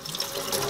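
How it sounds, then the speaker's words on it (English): Hot tap water running steadily over a fig roll held under the faucet, a close, even splashing rush with no voices. "I went over here and put it under hot water."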